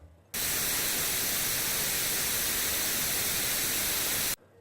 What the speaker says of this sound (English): noise that contains all frequencies in the human range at equal intensities